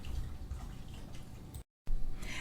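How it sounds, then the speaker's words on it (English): A cup of warm water is poured into a ground beef meatloaf mixture, making a soft, close trickle and drip that runs steadily and then stops for a moment before resuming. "I put in 1 cup of warm water."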